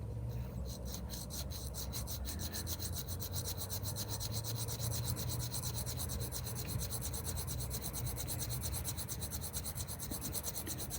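A file rasps steadily against a fishing hook held in a vise, with a continuous close scraping stroke that runs evenly throughout.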